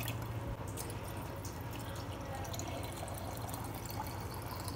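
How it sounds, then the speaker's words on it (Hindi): About a litre of water is poured into a bottle holding cucumber, lemon and cinnamon for homemade detox water, a steady close splashing and gurgling pour with no talk. "So I am adding water in it."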